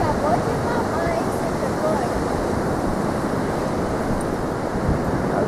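Steady wind and ocean surf at a beach, a continuous broadband roar of breaking waves with wind buffeting the microphone, constant and loud throughout.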